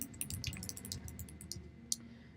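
Someone types a question into a table on a computer keyboard, producing a quick, fairly quiet run of irregular key clicks with one sharper tap near the end and no talking.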